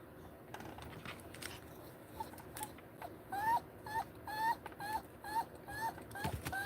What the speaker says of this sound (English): Oh, there's my doggy again.